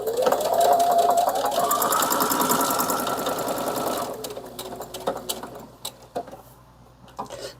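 A sewing machine stitches a card wallet in a fast, steady mechanical whir that runs close and loud, then slows and stops into scattered clicks and handling noises.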